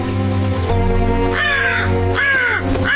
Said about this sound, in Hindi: अचानक एक कौवा आकर उसके सामने कानी काएं करने लगा।